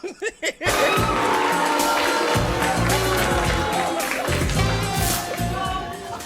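A 90s talk show studio audience erupts in a loud, sustained roar of mixed cheering, booing and laughter after a few brief sharp bursts at the start.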